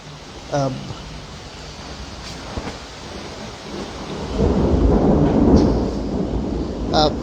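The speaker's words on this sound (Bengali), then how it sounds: "এখন কিন্তু বৃষ্টির পরিমাণটা কিছুটা বেড়েছে একই সাথে কিন্তু যে হাওয়া সেই ধমকা হাওয়াও বেড়েছে" A thunderstorm with heavy rain and gusty wind sweeps through Habiganj, Bangladesh; thunder rumbles and rain hisses steadily, and a roar of wind-driven downpour swells midway while a voice talks over it.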